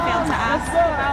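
Protest crowd at Washington Square, a close dense hubbub of overlapping voices and chatter, loud and continuous over a brief moment.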